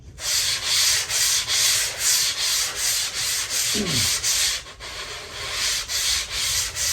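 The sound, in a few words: sanding a surfboard blank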